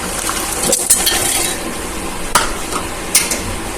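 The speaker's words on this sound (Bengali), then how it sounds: "হাফ বাটির থেকে কম বাদামটা নিয়েছি, অল্প একটু ভেজে নিলাম" Peanuts, a little under half a bowl, lightly frying in a pan with steady soft sizzling, a few spoon stirs and clinks against the metal.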